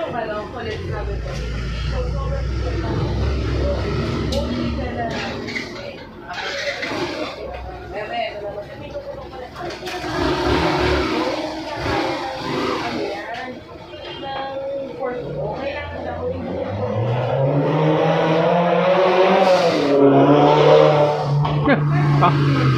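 A racing car's engine revs repeatedly in a workshop, rising and falling in pitch through loud bursts that grow stronger near the end, with people talking over it.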